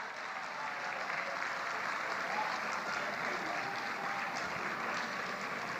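Steady, moderately distant applause from an audience at a Lagos State malaria pre-elimination program event, an even wash of many hands clapping with no break.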